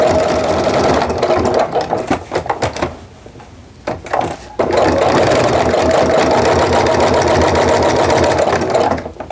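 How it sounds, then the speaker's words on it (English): A sewing machine stitches through a quilted Christmas tree mug rug in fast, steady runs. Its loud mechanical chatter breaks off for a short pause midway, then carries on. "I'm just gonna stitch along the bottom here until I feel like I'm about a quarter inch away"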